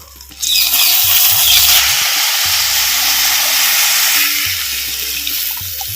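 Dissolved tamarind water is poured into a pan for dry fish gravy, producing a sudden steady splashing, gushing stream that begins half a second in and continues evenly, tapering slightly toward the end, with faint low clinks beneath.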